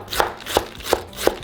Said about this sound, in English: Just finely chop it.